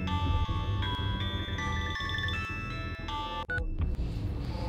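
A phone is dialed before a call in a TV crime drama, a sequence of close, clear keypad tones in a stepped pattern over a busy low background, ending with a sharp click.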